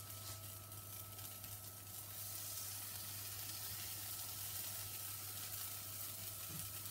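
Food fries in a pan with a faint, constant hissing sizzle, quiet and steady throughout, over a low electrical hum.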